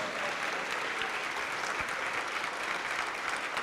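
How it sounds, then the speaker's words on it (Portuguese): Church congregation applauding during a worship service, sustained, dense clapping from a large crowd that carries on evenly throughout, with no speech over it. "vamos aplaudir mais ao Senhor Jesus"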